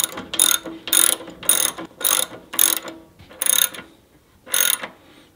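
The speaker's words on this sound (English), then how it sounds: "Now you can see how the reservoir is going inward as I tighten this bolt." A ratchet wrench tightens a bolt on a Harley-Davidson rear shock bracket, pushing the reservoir inward; close, crisp clicking comes in about eight short bursts with brief pauses between them.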